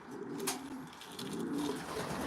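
Racing pigeons coo softly and continuously inside a loft, a low murmuring bird chorus with a brief flutter near the start, steady throughout with no talking.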